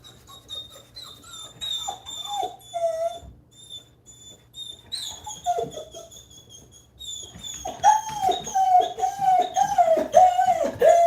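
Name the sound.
dog whimpering from separation anxiety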